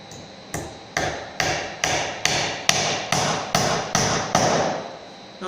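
Hammer blows drive common box nails into a birdhouse at a steady rhythm, about eleven sharp close hits roughly half a second apart, each ringing briefly.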